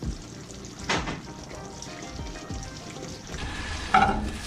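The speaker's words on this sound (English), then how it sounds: "allow it to simmer and thicken on your hob" Honey mustard cream sauce bubbling and sizzling steadily in a pan on a kitchen hob, with a couple of brief louder utensil clinks or stirs; close and fairly quiet, no talking.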